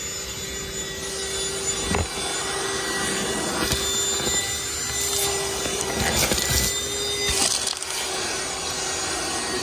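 A Ryobi 18V cordless box vacuum runs continuously with a steady whine and airflow rush, punctuated by several sharp rattling bursts as debris gets sucked through the nozzle.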